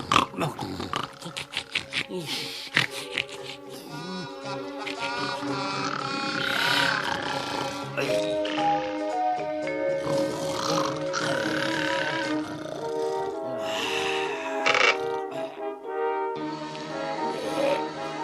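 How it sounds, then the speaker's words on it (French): A cartoon Smurf snores in bed, loud rhythmic snorting breaths mixed with music and other cartoon sound effects. "Qu'est-ce qui ronfle dans le lit de grosse bouffe?"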